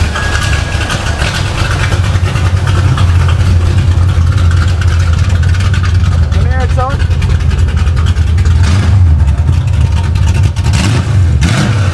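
A 2JZ engine swapped into a BMW 7 Series runs loud and steady with a deep, constant rumble, close by, while someone talks over it throughout.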